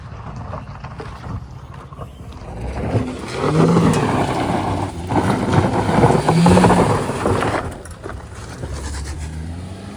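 A car engine strains as the vehicle climbs a damaged, rough mountain road on the way from Delhi toward Kedarnath, swelling louder in the middle and then easing, with rattling and scraping from the uneven ground.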